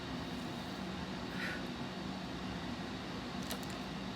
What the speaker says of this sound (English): You hear my air conditioner?